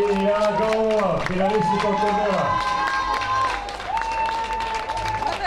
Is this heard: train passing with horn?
no